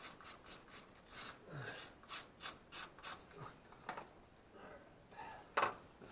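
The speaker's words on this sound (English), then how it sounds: "Socket makes life way easier." Socket wrench ratcheting in a string of quick, close clicks, fairly quiet, with a few scraping handling sounds and a sharp click near the end.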